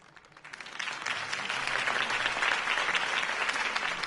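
Sustained crowd applause in a video game swells from a quiet start into steady, dense clapping that fills the space, with no voices over it.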